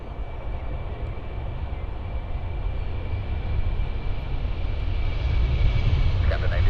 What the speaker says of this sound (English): taking off right now is our Seville flight